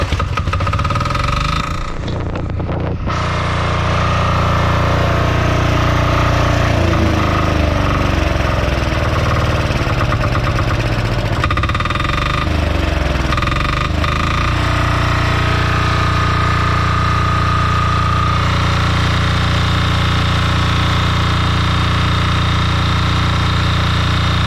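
A DuroStar DS7200 generator with a 186F diesel engine runs steadily and loudly, a close, continuous mechanical chug after a brief start-up burst, with no talking over it.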